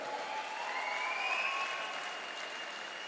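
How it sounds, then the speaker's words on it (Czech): Crowd at a K-1 kickboxing gala evening applauds the organizers, a steady, even wash of distant clapping with faint whistling tones drifting through it. "Chtěl bych poprosit o velký potlesk pro pořadatele tohohle skvělého gala večera."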